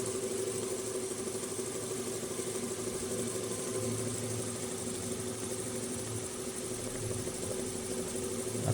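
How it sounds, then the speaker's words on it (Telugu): A computerized automatic embroidery machine in a manufacturing unit stitching a design onto caps, a steady continuous mechanical hum and whir running unbroken at close range with no talk. "ఇప్పుడు అది ఎంబ్రాయిడింగ్ చేయడం స్టార్ట్ చేస్తుంది"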